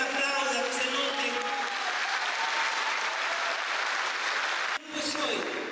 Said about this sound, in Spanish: hoy renovación carismática se va a aplaudir, aplauda, que se note.